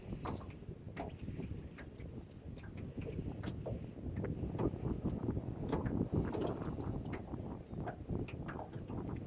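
Wind blowing outdoors beside a lake used for fishing, a steady low rumble buffeting the microphone throughout, with scattered small clicks and taps over it and no one talking.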